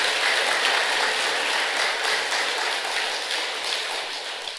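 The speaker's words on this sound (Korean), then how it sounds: "우리 모두를 찬탄하고 감사하는 마음으로 박수 한번 칩시다." A congregation at a Sunday Buddhist dharma service claps together in a dense, continuous wash of applause. It holds steady at an even level and eases slightly toward the end, with no voices over it.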